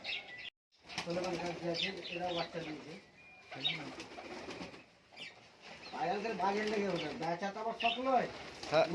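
Giribaz high flyer pigeons in a loft coo and rustle, with wings flapping now and then, while someone talks over them most of the time.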